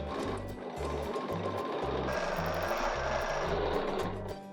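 A sewing machine stitches a teardrop quilting design with a steady, rhythmic mechanical thumping, close and continuous throughout with no talking.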